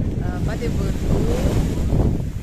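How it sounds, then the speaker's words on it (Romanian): Strong wind roars steadily across the microphone at the Black Sea beach in Costinești, with breaking waves blended underneath and faint talk in the background. "și bătând vântul apa este cam așa"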